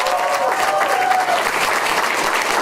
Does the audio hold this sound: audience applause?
yes